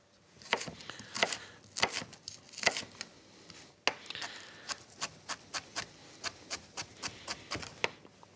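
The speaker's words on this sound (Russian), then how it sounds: "Я шалот нарежу сравнительно мелко." Rapid, crisp knife chops on a cutting board as shallot is finely chopped, irregular at first and then a steadier run of quick strikes, close and fairly quiet.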